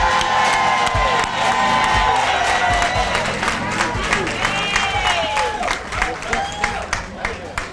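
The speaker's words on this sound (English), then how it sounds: "Let me hear the Eastside Market crowd give Tom Joyner and Kim Whitley a 105 St. Clair New Eastside Market round of applause." A market crowd at an outdoor award celebration applauds and cheers loudly and continuously, with whoops and shouts rising over dense clapping, and a voice speaking over the noise.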